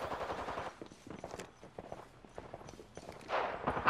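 Rapid gunfire in the Apex Legends video game, bursts of sharp, fairly close shots in quick succession with heavier volleys at the start and end, over busy game noise.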